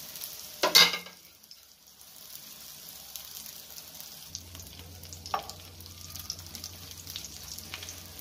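Prawn head fritters sizzle in hot oil, a steady quiet crackle and hiss, with a brief clatter near the start and a low hum underneath.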